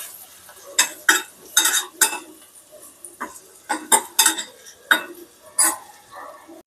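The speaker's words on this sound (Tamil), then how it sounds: "மூடாதீங்க, ஓப்பன்லேயே வச்சு கொஞ்சம் ஹையில் வச்சு வறுக்க வேண்டியதுதான்." Raw banana pieces are tossed on high heat in an open pan, heard as a series of sharp spatula scrapes and metallic taps in an uneven rhythm over a faint background sizzle.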